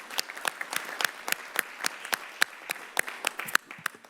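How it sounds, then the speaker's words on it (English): Audience at a Half Moon Bay City Council meeting applauding the NET class of 2023, scattered distinct claps from a modest group, steady and close, with no voices over them. "How about a big round of applause for the NET class of"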